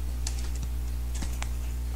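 Keys clacking on a computer keyboard as a game name is typed into a search box, a few quick, close key taps in short bursts over a steady low hum.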